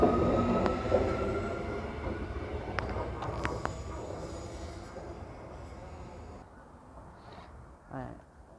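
An IMU 167 and 168 electric train pulls into Woodridge Station in Brisbane with a loud rumble that slowly fades as it slows, broken by a few short high squeals and a brief clunk near the end.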